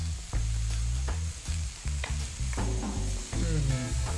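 Silkworm pupae dry-roast in a pan and give off a loud, continuous sizzle and crackle. Repeated scraping strokes of stirring and a few metallic knocks run close through the whole stretch.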